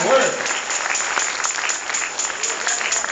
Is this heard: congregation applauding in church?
yes